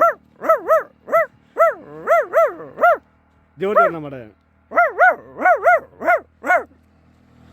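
A voice imitates a dog, giving a rapid series of sharp barks, then a drawn-out snarling growl, then more barks; a few words are spoken.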